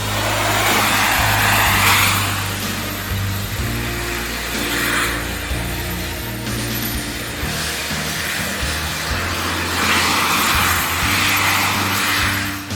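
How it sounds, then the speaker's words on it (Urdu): Small jet engines on a wearable flying jet suit roar continuously and loudly throughout, a steady broadband rushing thrust with surging swells and a low rumbling undertone, no voices. "اس جیٹ سوٹ میں انتہائی چھوٹے قسم کے جیٹ انجنوں سے مدد لی گئی ہے"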